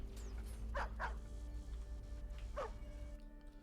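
Dogs in the real-time strategy game Stormgate bark a few times, short yapping bursts over a loud low rumble of battle ambience.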